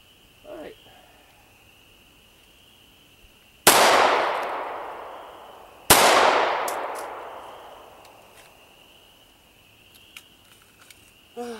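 Two sharp, loud gunshots from a S&W Sigma 9VE 9mm pistol, a few seconds apart, each with a long ringing decay, over a steady insect-like hum at an outdoor range.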